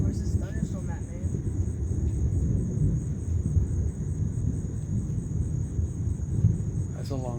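A long, low thunder rumble rolls continuously through an active August thunderstorm, with crickets chirping steadily in the background and brief voices at the start and end.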